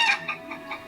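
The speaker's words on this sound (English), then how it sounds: "A chicken. Oh, A chicken." A chicken clucking in a kids' animal video game: a few short, bright clucks in a quick uneven series, close and clear, with no voices over them.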